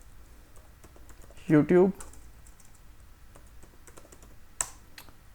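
Quick keystrokes on a computer keyboard, a short burst of clicks close by, with someone talking briefly at the start and a single sharp click near the end.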